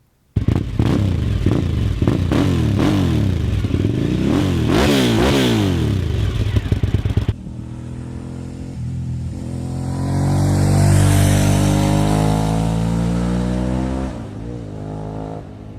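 A Suzuki SV650 V-twin motorcycle engine revs hard through rising and falling sweeps, loud and close, then settles into a lower, smoother drone that swells and fades, with no talking.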